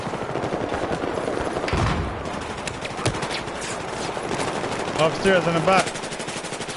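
Continuous gunfire rattles through a Battlefield 4 multiplayer match, dense and steady throughout with a few sharper bursts, while a player speaks briefly over it.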